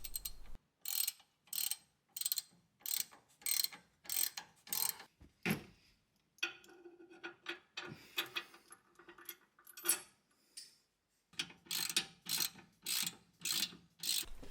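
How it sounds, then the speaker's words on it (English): Ratchet clicking as nuts and bolts are fastened on a Suzuki Jimny recovery point, in rapid runs of sharp metallic clicks with a short pause of softer scraping between them, close up and without speech. "you can now fasten the nuts and bolts"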